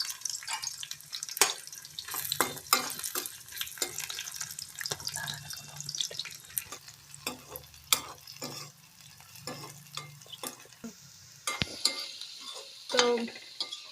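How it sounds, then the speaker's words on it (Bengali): Chopped onions sizzle in hot oil over a high flame, a quiet frying crackle broken by repeated sharp clinks and scrapes of stirring, close by, with no one speaking. "তো তেলের মধ্যে এই যে পেঁয়াজগুলো দিয়ে দিচ্ছি"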